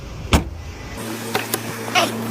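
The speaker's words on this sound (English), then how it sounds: "Want to bring the top down?" Motorized convertible top on an Audi lowering, a steady electric motor whir with a few clicks and mechanical clunks, close by and without talk.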